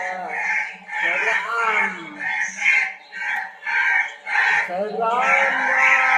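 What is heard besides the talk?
crow call ringtone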